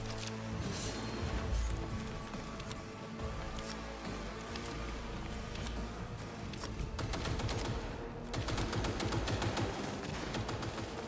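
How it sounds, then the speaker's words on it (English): Enemy gunfire in the shooter game Cyberpunk 2077 comes as dense, rattling automatic bursts and scattered shots within a busy, noisy firefight, fairly quiet overall and continuing for several seconds. "They're opening fire!"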